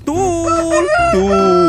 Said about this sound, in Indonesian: Wow, ini ada ayam berkokok.